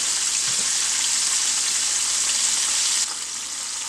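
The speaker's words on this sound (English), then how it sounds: "we've been frying now for 3 minutes" Southern-style chicken pieces fry in hot oil with a dense, steady sizzle heard close up, dropping slightly in volume near the end.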